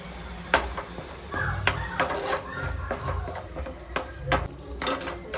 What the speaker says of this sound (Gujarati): આપણે જે પેસ્ટ બનાવી હતી એ એડ કરી દેવાની છે, બરોબર સાતળી લેવાની છે